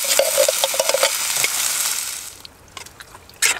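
Chopped tomatoes tipped into a fish curry cooking in a pan on a Trangia camping stove, giving a brief wet splatter and stirring scrape with a faint sizzle close by, then quieter clinks of a utensil against the pan.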